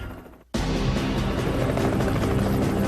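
A Coast Guard helicopter of the Helicopter Interdiction Tactical Squadron flies close by, its rotor and engine roar cutting in abruptly after a quiet moment and then holding loud and steady, with no talking.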